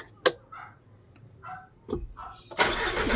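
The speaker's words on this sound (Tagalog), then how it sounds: "Kailangan tapakan yung brake bago aandar yung makina." A Hino 300 series six-wheeler diesel truck engine cranks and catches after a few faint clicks and knocks, building into a loud, steady idle at the end.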